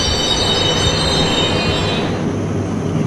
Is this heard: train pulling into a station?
yes